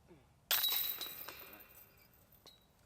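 A disc golf putt smacks into the basket chains with a sudden bright metallic crash, the chains jingling and rattling as they fade over a couple of seconds, close by.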